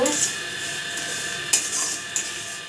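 Metal spatula scraping and clinking against a pan while fried rice is scooped out, with a few sharp clanks over a steady kitchen hum.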